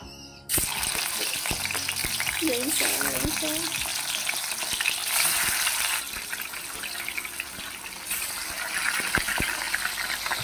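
Japanese fish sizzle in hot oil in a wok with a steady, dense crackle and occasional pops and stirring clatter throughout.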